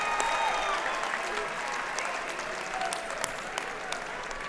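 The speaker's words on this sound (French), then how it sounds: "Je crois qu'on peut les applaudir." A crowd at a training awards ceremony applauds continuously, a thick, sustained patter of many hands at moderate volume with faint voices mixed underneath.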